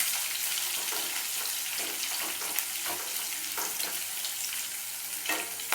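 Four hot green chilies sauté in a pan with a steady, bright crackling sizzle, punctuated by a few soft stirring scrapes, close by with no voices.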